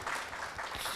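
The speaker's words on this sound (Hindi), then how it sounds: "तालियां दिल खोल के बजा सकते हैं" An audience at a live conversation event with an actor claps warmly, a dense, steady burst of applause filling the short moment, fairly faint in the room and without speech over it.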